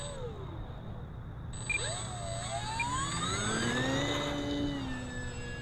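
An E-Flite Maule M-7 1.5m electric RC plane taking off with flaps set, its motor whine climbing steadily in pitch as it accelerates and pulls away, moderately loud and continuous with no talk.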